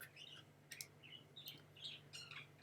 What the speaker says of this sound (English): I wonder if my birds are gonna sleep.